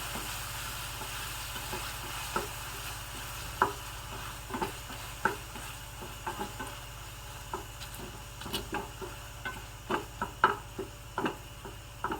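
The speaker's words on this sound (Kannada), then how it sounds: "ಒಂದು ಸ್ವಲ್ಪ ಉಪ್ಪನ್ನು ಹಾಕಿಬಿಟ್ಟು ಬಾಡಿಸ್ಕೋತಾ ಇದ್ದೀನಿ" Vegetables with a little salt sautéed in a pan with tomato and onion, a faint steady sizzle broken by irregular light ticking taps and scrapes of a stirring spoon, growing busier toward the end.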